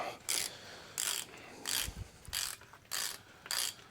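A hand ratchet snugs engine bolts on a 1949 engine during swap prep, in six sharp clicking bursts at a steady pace about every half second, close and loud, with a faint metallic clunk in between.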